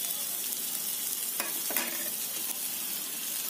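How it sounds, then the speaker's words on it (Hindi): Dry spices frying in a pan for mushroom chili, a steady close sizzle with a couple of brief spoon scrapes partway through. "अब मैं इसको थोड़ा सा चला लूँगी ताकि सूखे मसाले भी थोड़ी तरह से पक जाए"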